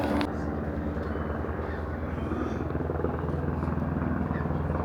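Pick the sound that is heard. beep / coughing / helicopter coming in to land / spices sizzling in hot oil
helicopter coming in to land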